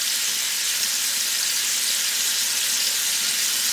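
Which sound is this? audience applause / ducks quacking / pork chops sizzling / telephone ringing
pork chops sizzling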